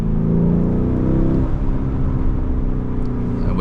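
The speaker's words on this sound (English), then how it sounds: "So as you can hear, exhaust very, very loud." A 2021 Lamborghini Urus being driven hard, its loud exhaust droning and rising as it accelerates, then settling into a steady rumble, heard close and alone.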